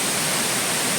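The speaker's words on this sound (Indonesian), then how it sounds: "ini adalah air terjun ya di belakang kita ini" A waterfall roars steadily and loudly right behind the people there, a dense, unbroken rush of falling water with no talk heard.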